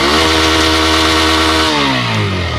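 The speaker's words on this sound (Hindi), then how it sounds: "इंजन का साउंड।" A Bajaj Pulsar N125 125cc motorcycle idles in neutral close by, a loud steady mechanical drone that dips and settles toward the end.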